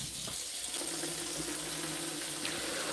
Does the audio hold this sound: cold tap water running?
yes